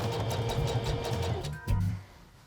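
A sewing machine stitches a hem with a fast steady mechanical whir and pulsing needle rhythm, close by, briefly pausing before a final short run.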